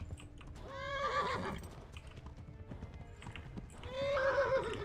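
A horse in the Kingdom Come: Deliverance video game whinnies loudly twice, near, with hoofbeats clip-clopping at a gallop running underneath between the calls.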